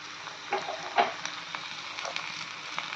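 Bele fish chorchori, a Bengali fish curry cooked without ground spice paste, frying in a pan with chilli, onion, salt and turmeric, giving a steady close sizzle with small crackles and stirring scrapes.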